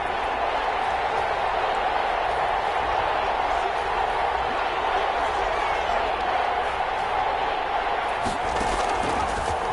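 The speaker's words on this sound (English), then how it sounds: "the crowd getting into it as we come up on a big 3rd down" A large football stadium crowd roars in a dense, steady wash ahead of a big third down, loud and sustained throughout, with a commentator's voice faintly beneath.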